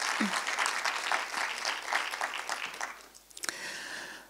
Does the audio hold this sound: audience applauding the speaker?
yes